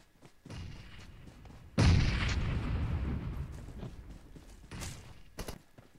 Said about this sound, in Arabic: لك لازت قنابل قدامنا يا زلمه